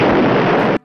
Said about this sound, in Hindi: पटाखा बिल्कुल खिड़की के पास फूटेगा।